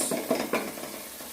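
Sauce for Kenyan matoke, cooked banana, stirred in a pot, a few soft close scraping strokes over a faint sizzle, brief and without speech.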